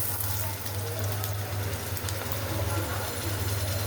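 Onion, garlic and ginger paste fry in hot oil with a steady, even sizzle and hiss that runs unbroken throughout, close by over a low background hum.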